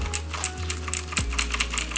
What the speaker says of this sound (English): you can actually hear the switches